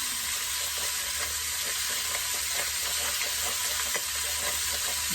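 Meat browning in a frying pan with oil, seasoned with salt and pepper, a steady close sizzle and crackle with light stirring scrapes throughout, no voices.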